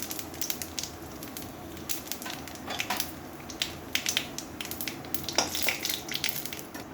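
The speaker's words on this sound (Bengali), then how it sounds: "আমি জিরেটা নিয়েছি ফোড়নে দেওয়ার জন্য, জিরেটা দিলাম" Cumin seeds crackle and sizzle in hot oil during tempering for a Bengali chana dal, a continuous close hiss dotted with sharp popping bursts throughout.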